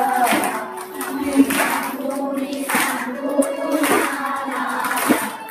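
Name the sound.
audience clapping along during a Bhagavat katha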